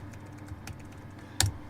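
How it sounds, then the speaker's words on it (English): Quiet, scattered keystrokes on a computer keyboard, a few light taps followed by one sharper, louder clack near the end, with no talk. "I'm just typing something here"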